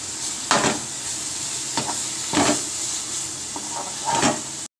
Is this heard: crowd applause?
no